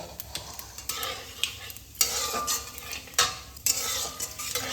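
Two bay leaves, a dry red chilli and a spoon of cumin seeds sizzle in hot oil for tempering, with a steady crackle broken by several sharp spoon scrapes and stirs against the pan, close up and with no talking.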